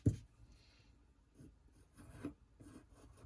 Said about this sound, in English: So I have to erase that.